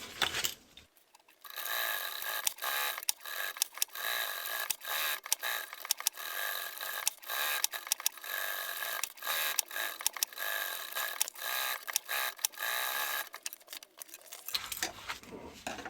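Stitching through the layers of a tool pouch, heard as a quick run of mechanical clicks and ticks with small pauses, faint and close, with no voices.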